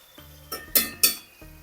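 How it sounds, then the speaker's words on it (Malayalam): Tomatoes are stirred and sautéed in a pan for a potato curry, heard as three short, sharp spatula scrapes against the pan over a quiet background. "ഇതൊന്ന് ഇളക്കി കൊടുക്കാം. തക്കാളിയുടെ ആ പച്ച ചൊവയൊന്ന് മാറണേ."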